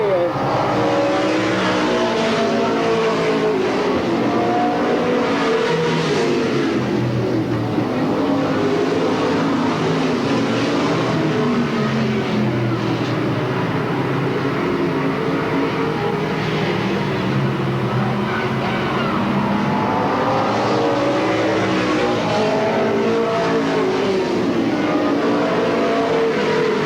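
Race cars roar steadily down the front straightaway at a 1985 oval speedway, a continuous loud engine drone with passing surges, heard under a track announcer's commentary.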